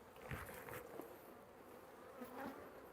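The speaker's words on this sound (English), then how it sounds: "You hear that little uptick in their buzz means they get a little excited." Honey bees buzz steadily in an open hive during a bee-yard inspection, a close, dense drone that swells briefly in intensity, with no voices.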